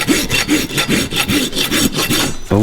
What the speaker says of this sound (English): It's a little easier to rasp it down than to do it with the knife, just because the foot's a little dry.